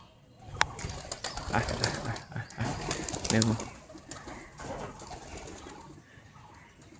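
Homing pigeons being released and flying back down to land at home, with soft cooing and bursts of flapping wings under a man's occasional speech.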